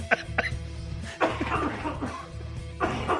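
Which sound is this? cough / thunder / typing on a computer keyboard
cough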